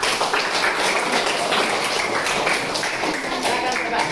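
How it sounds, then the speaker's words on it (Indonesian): Group of people applauding in a classroom supervision session, a dense, steady wash of hand clapping that holds evenly throughout, with voices mixed in. "Oke, tepuk tangan dulu untuk"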